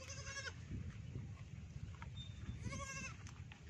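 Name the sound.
goats bleating on a rice farm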